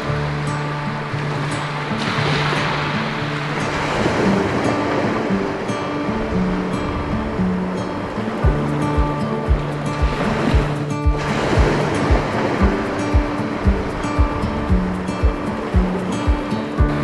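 Ocean surf washing onto a sandy beach, a steady broadband roar with a few stronger surges, heard alone with no talking.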